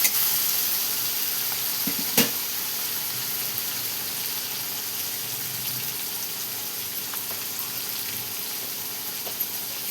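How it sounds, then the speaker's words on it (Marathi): Chili and garlic paste with cumin frying in hot oil, a steady sizzling hiss running throughout with a sharp clank near the start and a few faint scrapes. "परतून घेऊया तेलामध्ये"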